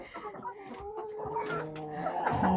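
A chicken in a small home garden clucks repeatedly at feeding time, close and fairly clear, with brief squawks over faint background noise.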